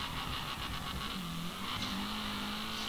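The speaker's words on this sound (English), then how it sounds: "I'm freaking drifting to the max here" Video-game drift run in Peak Angle: a car engine holds a steady high-revving drone with a tonal whine shifting in pitch as the tires skid continuously, loud and close throughout with no talk.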